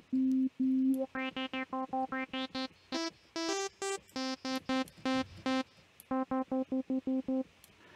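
A Native Instruments Massive synth patch run through a low pass filter plays a staccato sequence of bright, buzzy notes in a choppy rhythm, clear and alone.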